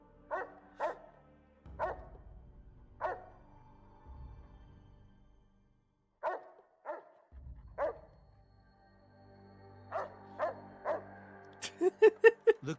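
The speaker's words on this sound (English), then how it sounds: "The dog is talking." A dog in a video game barking in short separated bursts, widely spaced at first and then quickening into a rapid string of yips and barks at the end, with low rumbling game ambience between them.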